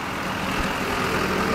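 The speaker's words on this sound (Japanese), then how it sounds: "OK、 エンジンかけて。" A Harley-Davidson 1800 CVO motorcycle engine running just after being started, a loud, low, rumbling idle that stays steady and close throughout the short stretch.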